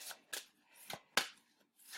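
A deck of reading cards is shuffled up close in several quick riffling bursts, each a short crisp flutter separated by brief pauses.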